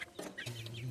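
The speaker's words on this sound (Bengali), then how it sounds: "তো এখন মুরগিকে খেতে দেওয়া হচ্ছে" Chickens being fed give a few quick, soft clucks close by, a brief burst of fowl chatter with no talking.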